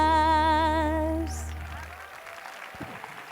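Audience applause breaks out as a sung performance of a song at a live dialogue event fades out, the clapping building into a dense, moderately loud wash that continues alone to the end.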